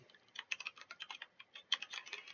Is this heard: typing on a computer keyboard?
yes